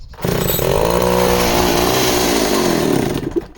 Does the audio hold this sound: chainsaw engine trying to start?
yes